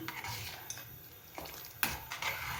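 Spoon stirring melting sugar syrup in a pan, soft scraping strokes and light metallic clinks at an irregular pace, quiet and close with no talk.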